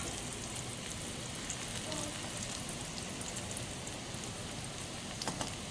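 Curry leaves and green chilies sizzle in hot oil seasoned with asafoetida, a steady close frying hiss throughout with a few sharp pops near the end.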